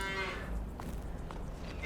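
Cattle in the farming video game Farming Simulator 22 moo loudly and repeatedly, several overlapping low calls from a herd kept on a farm, heard alone with steady ambient farm background.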